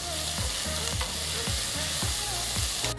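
Finely chopped onions, slit green chilies, curry leaves and whole spices like cloves, cardamom and fennel seeds fry in a pan with a steady, dense sizzle, punctuated by rhythmic scraping stirs.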